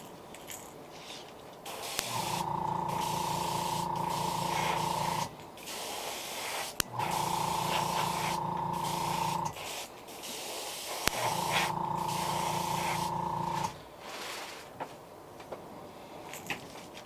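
A spray can coats a fishing lure in three long, even bursts of hissing paint, each lasting a few seconds with short gaps between, close and fairly loud.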